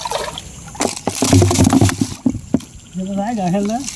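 Freshly caught fish flop and splash inside a bucket at night, giving a burst of wet slaps and thrashing that fades into a short lull, with a voice speaking close by near the end.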